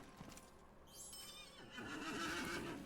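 A horse whinnies in Lord of the Rings Online, a bright rising neigh standing out over game ambience, with hooves clip-clopping and louder in-game activity in the second half.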